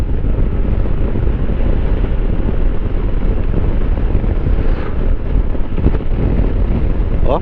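Strong wind roars across the microphone during a Yamaha NMAX V2 155 motorbike ride in Anda, Bohol. The buffeting is loud and continuous with no letup and no clear speech.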